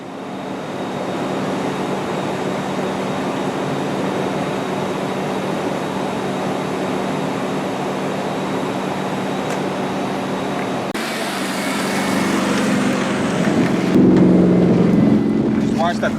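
A 1991 Honda CRX fitted with a cheap eBay turbo drives along, its steady engine and road drone filling the cabin, swelling louder near the end as the car accelerates, with people talking over it.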